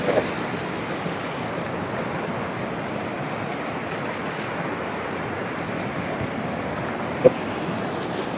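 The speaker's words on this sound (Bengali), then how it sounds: "অনেক বড় ঢেউ হয়েছে" Big rough sea waves at Himchari beach in Cox's Bazar during stormy weather, a steady roaring wash of surf with wind, loud and unbroken, with one brief sharp knock near the end.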